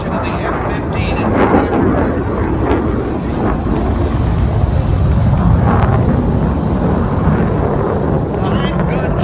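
An F-15 fighter jet with Pratt & Whitney F100 engines roars at an air show at Nellis AFB, a loud, sustained broadband thunder that fills the scene without letup, with an announcer talking over it.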